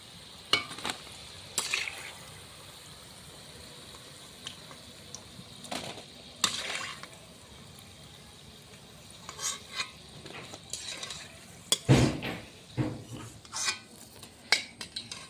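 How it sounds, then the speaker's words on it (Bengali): Palm fruit fritters deep-frying in oil, a quiet continuous bubbling fizz broken by scattered clinks and scrapes of a utensil against the pan, with no talking. "সবগুলো বড়াই এরকম করে লাল লাল করে ভেজে নেব দেখো বন্ধুরা"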